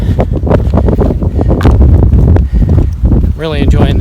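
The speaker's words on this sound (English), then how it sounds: "It's so windy up here." Strong wind blasts across an exposed ridge on the Miry Ridge Trail in the Great Smoky Mountains, a loud, continuous buffeting roar against the microphone, with a person talking over it.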